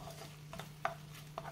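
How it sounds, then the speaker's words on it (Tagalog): Tomatoes and shrimp being stirred in a cooking pot, giving faint scraping clinks and soft wet clatters at a steady low level, with a constant electrical hum underneath and no talk. "Haluin natin."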